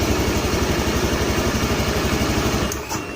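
A Honda Beat FI scooter with a sputtering, stalling fault runs close by at a steady pulsing idle. Near the end it falters and drops away.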